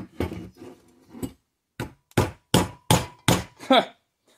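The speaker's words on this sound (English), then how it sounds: "Just with that little nylon hammer, it's already moved like a bunch." A small nylon hammer taps on a Kohler Courage engine part of a Cub Cadet LTX 1045 lawn tractor, about ten close, distinct knocks in an uneven rhythm, quicker toward the end.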